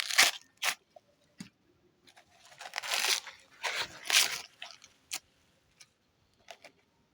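Fresh coconut husk is pulled and torn off by hand on a Nigerian farm, with close, irregular bursts of fibrous ripping and crunching between sharp snaps and short pauses.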